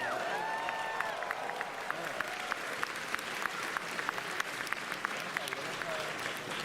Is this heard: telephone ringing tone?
no